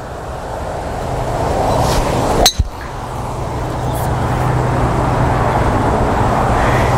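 A Davinci golf club swung at full power strikes a ball with a single sharp crack, set against a steady wash of nearby road traffic.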